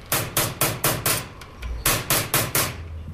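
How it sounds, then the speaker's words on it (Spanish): A hammer strikes a chisel on a metal sheet in sharp, ringing blows, five in a quick even rhythm, then a short pause, then four more, heard close and clear while a silversmith chases the outer face of the sheet. "Se realiza en la cara externa con martillo y cincel."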